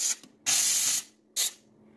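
A McCulloch 1385 steam cleaner sprays steam in short hissing bursts: a brief puff, a longer blast of about half a second, then one more short burst, close and fairly quiet, with no talking.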